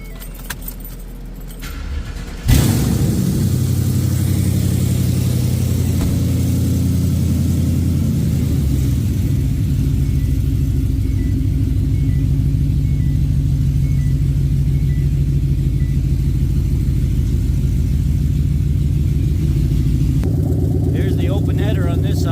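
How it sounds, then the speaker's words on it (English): A Volkswagen Taos engine cold-starts with a sudden crank and catch, then settles into a loud, steady fast idle close by, running on until it cuts off near the end. "Let's get a cold start."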